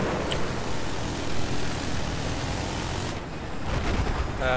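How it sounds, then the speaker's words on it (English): Jet aircraft roaring overhead during a Battlefield 4 conquest match, a loud sustained broadband rush of engine noise that swells and holds throughout, with brief sharper bursts of gunfire near the end. "Oh god, jets over."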